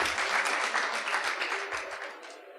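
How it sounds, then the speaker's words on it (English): Audience at a Steem blockchain presentation giving a quick round of applause, a dense burst of many hands clapping that tapers off toward the end. "So can we have a quick round of applause for that, please?"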